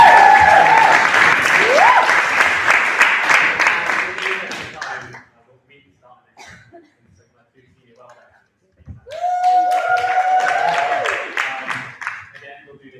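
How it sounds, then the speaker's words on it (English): Audience applause at a student JCR meeting, a dense burst of clapping for about five seconds that stops, then a second round resumes near and loud, with voices and a chuckle mixed in. "Round of applause for that."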